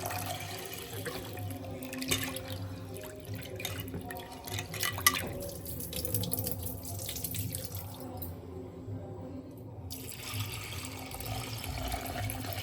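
Water runs and splashes in a bowl as lentils are rinsed by hand, with intermittent sloshing and drips, fairly quiet and with no talking.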